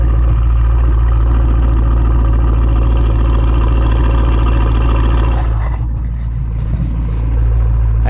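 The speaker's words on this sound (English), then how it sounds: "So I'll have to leave you with a nice little exhaust note." A Chevy SS sedan with a RotoFab intake idles loud and close, a deep, steady V8 exhaust burble that drops slightly for a moment, then settles back into its rumble.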